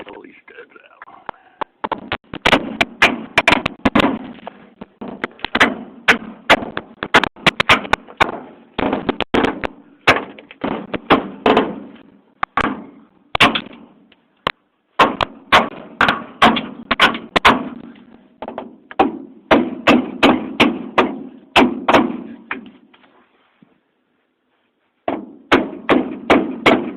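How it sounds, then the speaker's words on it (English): Studs are hammered out of a Ford 9 inch axle at a junkyard. Loud, sharp metal blows come in rapid repeated bursts with short pauses between them. "Last one. Pull these studs out."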